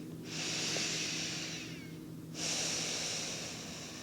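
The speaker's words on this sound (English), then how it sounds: "Long deep breathing." Two long, deep breaths taken during a Pilates butt workout, each a sustained airy hiss lasting about two seconds, close and fairly soft, with a short pause between them.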